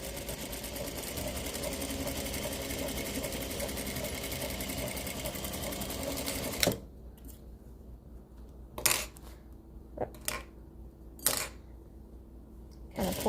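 A sewing machine stitches a flying geese quilt block in a steady, fast, continuous whir for about seven seconds, then stops, leaving quiet room tone broken by a few sharp clicks and taps.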